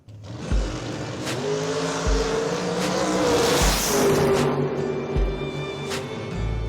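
A Corvette Super Pro drag racing car roars down the track at a drag racing event, a loud, close engine rising in pitch through repeated sharp gear shifts, with the sound swelling and fading as it passes.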